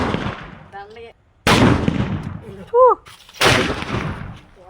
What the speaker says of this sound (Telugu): మన పేపర్ బాంబులు ఎలా బేలే విన్నారు కదా